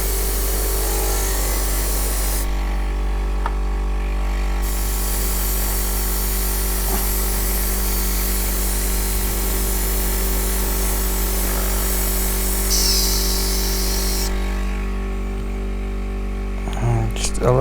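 Steady airbrush hiss spraying black paint onto an Imperial Knight model, continuous with brief pauses and changes in intensity, close and fairly loud over a low mains hum.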